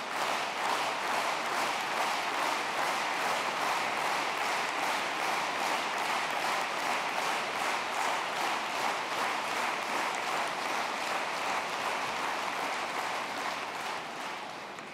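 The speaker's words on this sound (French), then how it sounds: "Je pense que cet applaudissement était plutôt pour Ferenc Szakó." A large audience at an international Eucharistic congress in Hungary applauds the arrival of the Hungarian president, with dense rhythmic clapping that holds steady and loud for about fifteen seconds before easing slightly at the end.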